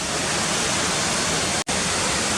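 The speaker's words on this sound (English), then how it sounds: "Right, so let's take a couple of nice shots of this waterfall." Cotter Force waterfall rushes as a dense, steady roar of falling water filling the whole short stretch, with a single momentary dropout near the end.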